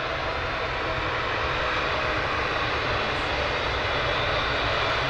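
An Emirates Airbus A380-800 taxiing at Manchester Airport, a steady, loud, broadband engine roar and rumble that holds constant throughout with no breaks.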